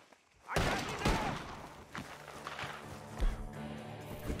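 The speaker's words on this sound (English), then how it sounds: "The gunshots are coming from that barn!" Red Dead Redemption 2 gunfire: a few loud, sharp gunshot bursts ring out over rumbling ambient game noise, spaced irregularly across a short stretch of action.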